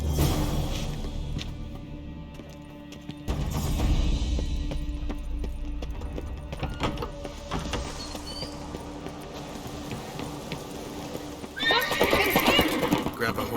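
In The Witcher 3, a horse whinnies and gallops with clip-clopping hooves amid game background sounds, ending in a louder neigh burst.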